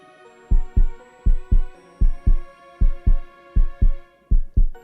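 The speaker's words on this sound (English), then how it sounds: "What do you feel within my chest? Your heartbeat." Steady double-thump heartbeat, about ten beats in a slow regular lub-dub rhythm, loud and close with a faint hum underneath and no talk.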